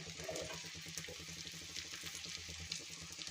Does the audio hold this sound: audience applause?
no